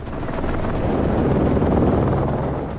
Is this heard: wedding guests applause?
no